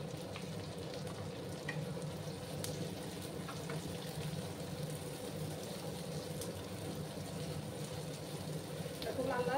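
Chopped onions frying in a pan with a steady, continuous sizzle and crackle; a voice talks over it.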